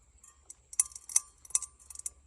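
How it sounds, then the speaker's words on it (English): Tin scrap metal crackles in quick, faint clusters of sharp ticks as it is squeezed by hand, irregular bursts over about two seconds with no talk. "Tin cracks when you squeeze it."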